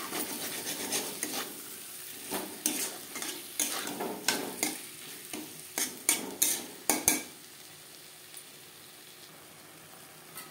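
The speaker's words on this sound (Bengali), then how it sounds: "মশলার সাথে আলু বেশ ভালো করে কষিয়ে নেওয়া হয়ে গেছে" Half-boiled potatoes stirred and fried with spices in a pan for a vegetarian cabbage curry, with close, regular scrapes and clinks of a utensil over a soft sizzle, then quieter frying as the stirring stops.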